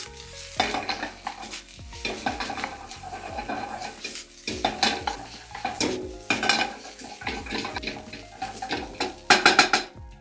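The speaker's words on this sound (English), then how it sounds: "we add in the green parts of the green onion and do our final mixing" Japanese fried rice with green onion being tossed and stirred in a hot pan, repeated scraping and clanking of a utensil against metal in bursts over a steady sizzle, close and clear, no speech.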